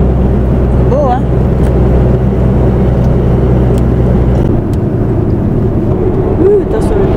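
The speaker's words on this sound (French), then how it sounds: "Ah, les cars, ils roulent fort." Cars and buses rushing past along a road through red-earth olive country in Morocco, a steady loud engine and tyre roar that drops a little partway through, with people talking over it.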